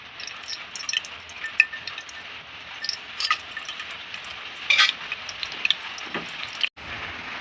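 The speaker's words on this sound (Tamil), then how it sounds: "எண்ணெய் காஞ்சி போய் தாளிச்சிக்கலாம்" Whole spices such as bay leaf, cinnamon, fennel and clove crackling in hot oil for a chicken biryani, a steady close sizzle with scattered pops and a few light metallic clinks, no talking.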